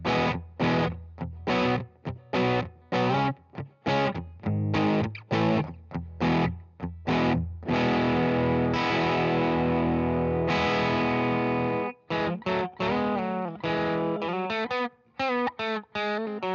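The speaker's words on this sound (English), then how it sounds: "this is what the Benson sounds like in my setup" Electric guitar played through a Benson Preamp overdrive pedal, a transparent overdrive: loud, driven chords and riffs in rhythmic stabs, then sustained ringing strummed chords and choppy picked phrases, played alone with no talking.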